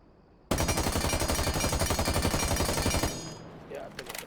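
Rapid automatic gunfire from Lion's weapon fitted with a muzzle attachment in the video game Rainbow Six Siege, a loud sustained burst of evenly spaced shots lasting under three seconds and then cutting off, with faint clatter afterward.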